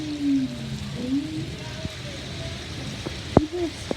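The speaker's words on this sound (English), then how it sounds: "Look at that rain." Heavy rain falls outside in a steady, broadband hiss that runs through the whole stretch, with a few brief sharper taps and faint tonal sounds over it.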